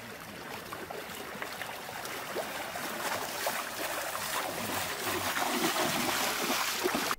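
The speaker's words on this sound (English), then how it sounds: "This dog found some bioluminescent water to swim in." A dog paddles through bioluminescent water, producing a continuous wash of splashing and sloshing that builds slightly louder toward the end, close to the microphone with no voices.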